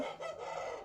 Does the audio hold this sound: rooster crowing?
yes